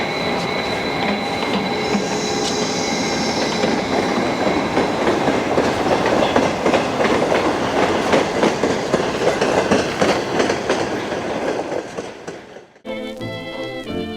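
A train rumbles steadily along its rails, loud and close, with a continuous roar of wheels and a faint high squeal, then cuts off abruptly near the end into a brief different tonal passage.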